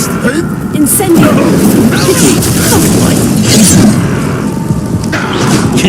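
Loud, sustained crackling blast of the Incendio fire spell in Hogwarts Legacy, roaring and dense throughout with scattered crackles and thuds.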